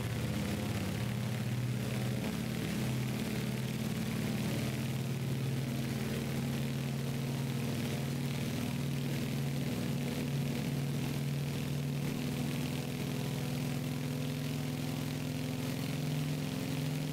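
Radial piston engines of a DC-3 airliner in a flight simulator game drone steadily and evenly throughout, a constant mid-level hum with no talking.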